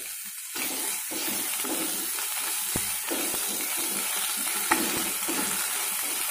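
Ginger garlic paste and onions fry in a pan for a Telugu dosakaya cucumber curry, a steady close sizzle with a few spatula scrapes and taps as the mixture is stirred, no talking.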